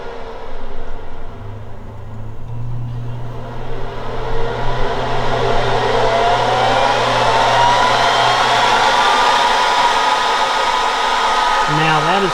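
Rugged Air Pumper helmet blower motor starting up and then running steadily as a loud, close, continuous airy whoosh with a hum, holding at constant strength to the end.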